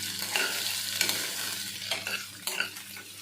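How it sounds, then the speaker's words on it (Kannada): Onions sizzling in a pan for shavige uppittu, with a utensil scraping and stirring through them in irregular strokes, close and steady with no talking. "ಇದು ಮೇನ್ ಉಳ್ಳಾಗಡ್ಡಿ ಹಾಕಿದ ಮೇಲೆ ಚೆಂದಂಗೆ ಫ್ರೈ ಮಾಡ್ಕೋಬೇಕು."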